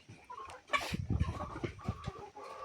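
Layer chickens on a farm clucking near and fairly loud, with several overlapping short calls and one louder squawk among a background of steady clucking.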